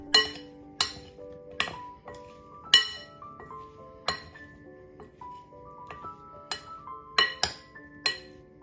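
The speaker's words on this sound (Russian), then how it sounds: "Теперь добавляю 1 ложку крахмала и перемешиваю." Zucchini being stirred with starch in a bowl, a utensil striking the side in sharp, ringing clinks, about a dozen irregular hits close by with no talking.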